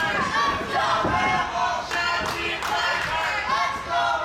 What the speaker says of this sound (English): Crowd showing their favorites